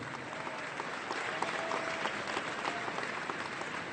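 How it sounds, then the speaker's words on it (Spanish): Sustained applause from a large crowd at a world meeting of popular movements in Santa Cruz, Bolivia, steady dense clapping filling the space without a break. "Les pido un aplauso por su paciencia, por su tolerancia y por acompañarnos"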